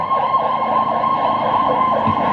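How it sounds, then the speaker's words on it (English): An ambulance siren wails steadily as it passes close by, loud and continuous with a rising and falling tone throughout. "Again, another ambulance coming through."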